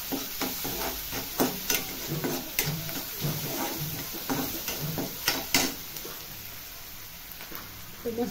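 Onions sauté in hot oil in a pan, giving a steady sizzle. A spoon scrapes and stirs in a quick, repeated rhythm up close, and speech is faintly present.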